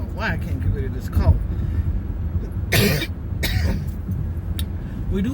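Two or three separate coughs from a woman, close to the microphone, with a steady low rumble underneath and throat clearing between the bursts.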